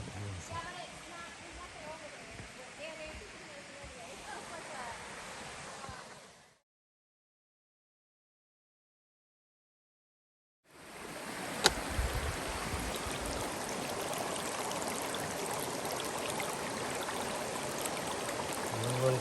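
A waterfall gives off a broad, steady rushing roar, cut by a few seconds of total silence in the middle and then resuming at similar strength.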